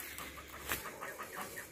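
Chickens cluck softly in a farm stall, a few short faint clucks in a row with quiet background noise.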